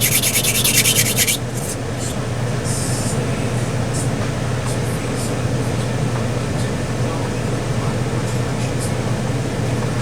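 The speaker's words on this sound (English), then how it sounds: "I gotta sand this down." Steady abrasive sanding on an RV6 model part, a continuous gritty rubbing that runs the whole stretch, loudest and hissiest at the start before settling into an even, close scrape.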